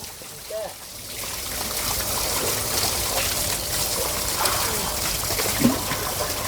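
Water pours from a hose while three two-wheelers are washed outdoors, a continuous hissing, splashing stream that sets in after a second and holds steady and fairly loud, with people talking over it.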